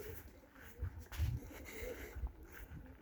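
Pigeons being kept for sale coo softly in a few low, throaty bursts, fairly close but quiet, with faint background noise and no talk.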